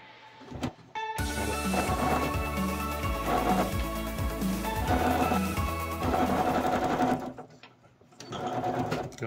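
A sewing machine stitching quilt blocks for a kaleidoscope quilt runs in a loud, steady whirring stretch with rhythmic needle thumps, slows briefly, then starts again for a short final burst.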